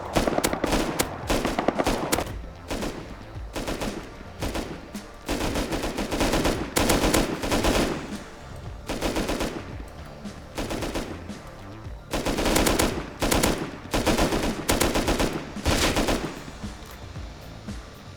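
Automatic gunfire from a modded PvPvE Rust game server, long rapid bursts of machine-gun fire rattling loud and close, broken by short pauses between volleys.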